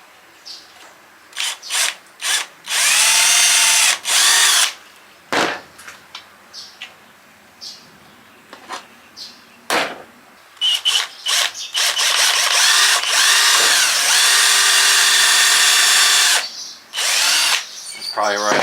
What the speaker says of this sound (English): I need to drill that one harder.